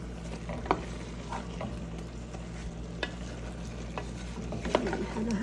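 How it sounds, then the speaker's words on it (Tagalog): Chicken with bay leaves being stirred in a frying pan for a Filipino tomato chicken dish, giving a soft, steady sizzle broken by occasional scraping and clinking taps of the spoon against the pan. "Tapos, yan na, halo-halo lang muna natin sila."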